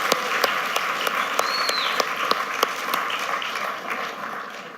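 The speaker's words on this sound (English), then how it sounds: "A round of applause, please, for our presenting sponsors." An audience applauds for event sponsors, with steady sustained clapping from a crowd that stays even throughout and fades slightly at the end.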